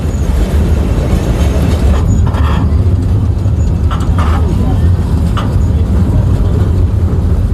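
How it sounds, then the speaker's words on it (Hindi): The Neral–Matheran toy train engine climbs uphill on a mountain railway, a loud continuous rumble and rattle of the carriages with faint clicking wheels, and a voice speaks over it. "एवरी कर्व पे इंजन ऊपर की तरफ जा रहा है।"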